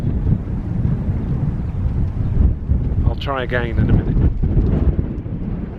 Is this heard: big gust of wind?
yes